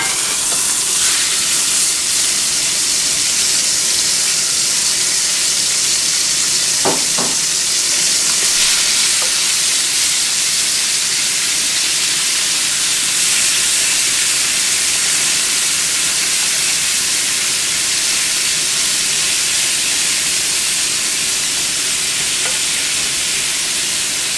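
Ground beef sizzles and fries steadily in a pan with jalapeno, onion and garlic, a loud continuous hiss with a brief stir or clatter partway through and no talking.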